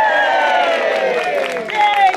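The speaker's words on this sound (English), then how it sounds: "Can we have a big cheer for Miss Rickmansworth" Crowd cheering and whooping for Miss Rickmansworth at a town fete, a dense burst of voices that swells toward the end, with shouted calls rising over the crowd.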